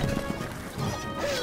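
Castle wall crumbling in the Stronghold Crusader strategy game, a brief crashing smash with rubble thuds amid battle noise and horse sounds.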